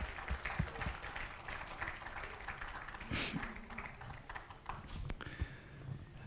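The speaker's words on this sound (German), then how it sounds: "So, nochmal einen Applaus, bitte." An audience at an award ceremony for electric vehicle charging applauds, a dense, fairly faint patter of many hands clapping that holds steady throughout, with a few sharper taps and knocks on top.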